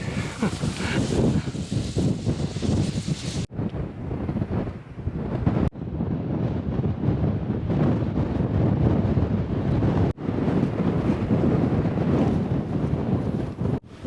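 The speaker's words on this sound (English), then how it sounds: "I think that gives you a good idea how windy it is today." Strong, steady wind roars and buffets the microphone in heavy low rumbling gusts on a hilltop in the Peak District near Stanage, continuous throughout with brief cuts, no other sounds standing out.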